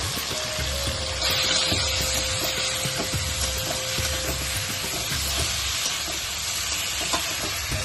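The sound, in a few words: frying shrimp together in a pan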